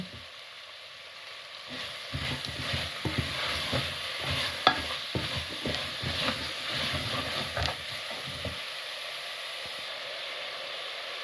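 Medium onions with green onion rings and salt fry in hot oil for a beef curry with capsicum, a steady sizzle under repeated scraping stir strokes that come close and loud through the middle, with no talking.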